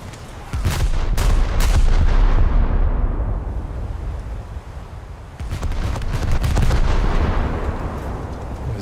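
Battleship main gun turrets firing in a naval combat video game, with heavy booming salvos: a burst of sharp shots, then rumbling decay, then another cluster of loud blasts.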